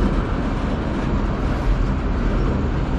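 A CN manifest freight train with CN 2237 and CN 8806 locomotives rumbles past in Sarnia, Ontario, in a continuous, dense roar with rattling, loud and steady throughout.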